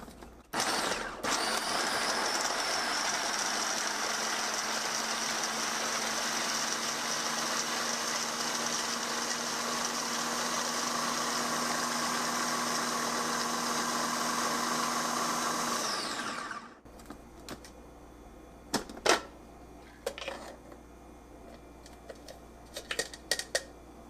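A Philips food processor dicing a large, hard carrot: a loud, steady mechanical whirring and grinding that runs unbroken for about sixteen seconds, then cuts off, followed by a few light clicks and clatters in near quiet.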